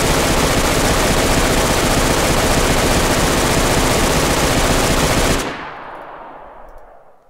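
An RPK machine gun in DayZ fires one long, loud, unbroken automatic burst for about five seconds, then stops abruptly and leaves a fading echoing tail.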